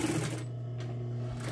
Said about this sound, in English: I'm gonna stitch that there.